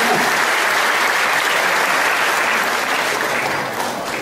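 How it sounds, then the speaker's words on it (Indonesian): An audience bursts into loud, sustained applause during a talk on healing and acceptance, a thick unbroken roar of many clapping hands that holds steady and only eases slightly at the very end. "tepuk tangan itu"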